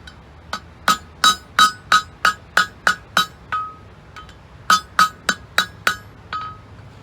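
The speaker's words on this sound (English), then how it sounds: "we're going with pretty light hammer blows" Light, ringing hammer taps on hot steel while forging an old wrench into a cap lifter, a quick even series of about a dozen strikes, a short pause, then another run of bright pings.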